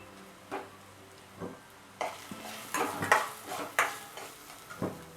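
Chopped onion and ginger sautéing in a pan, a low sizzle broken by repeated scraping and stirring strokes of a spoon against the pan, fairly close with no talking.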